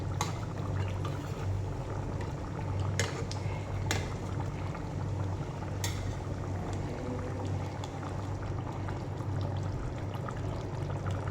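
Cooked vegetable curry is poured from a large pressure-cooker pot into a wok, giving a continuous wet, bubbling pour over a low steady hum, with a few sharp clinks of metal.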